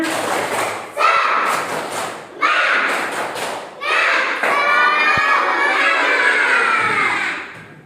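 A school class performs the tepuk semangat chant, rhythmic group clapping in repeated bursts with children shouting along, loud and close, with noisy pauses between the bursts.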